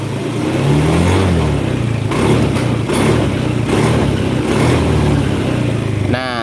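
A Honda Scoopy scooter engine runs loud and steady close by, its pitch swelling in a few revs over the continuous drone before easing off near the end.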